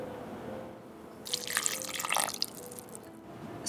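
Water is poured into a cake dough mixture of sugar and oil in a short splashing burst of about a second, standing out against quiet kitchen background.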